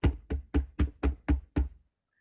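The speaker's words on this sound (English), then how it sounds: "suddenly there was another bit quieter knock on the door" Seven quiet, evenly spaced knocks on a door, each a short dull thud with a brief decay, falling silent after about two seconds.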